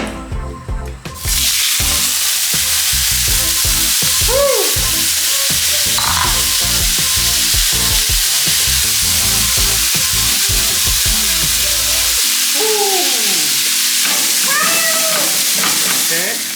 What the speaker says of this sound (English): And we will add them now here in the hot pan.